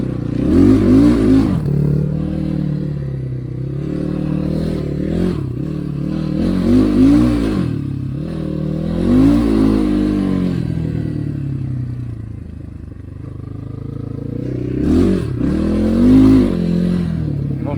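A new Kovi Max 300 enduro motorcycle with a loud aftermarket exhaust revs repeatedly nearby, its deep rumble swelling into throaty bursts at a steady idle between blips.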